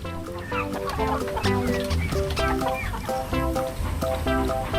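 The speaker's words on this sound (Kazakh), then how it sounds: "Тауық." A domestic hen clucks repeatedly in a steady, close rhythm of short, throaty calls, with no talking.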